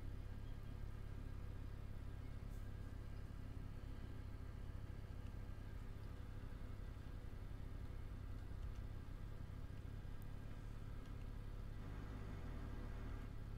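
A John Deere tractor in Farming Simulator 19 runs at full speed, giving a steady, low engine drone and rumble that holds constant for the whole stretch with no voices.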